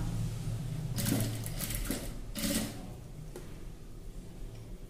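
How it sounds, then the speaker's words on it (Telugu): A sewing machine stitches a simple neck design on a ladies' dress, a fast continuous mechanical whir with rhythmic needle ticking that swells in short bursts, close and alone. "ఇప్పుడు ఇక్కడ నుంచి ఇక్కడ వరకు ఇలా స్టిచ్చింగ్ చేసుకున్నాం"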